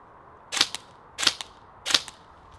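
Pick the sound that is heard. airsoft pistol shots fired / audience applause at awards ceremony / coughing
airsoft pistol shots fired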